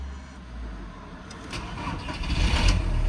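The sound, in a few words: Audi A4 Avant B7 engine starting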